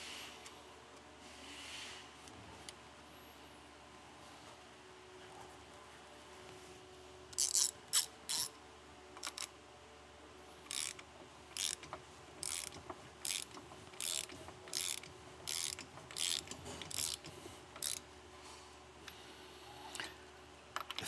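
A ratchet tightens the countershaft nut on a motorcycle V-twin four-speed transmission in a workshop, with a quiet pause followed by repeated short bursts of clicking strokes, close and fairly soft.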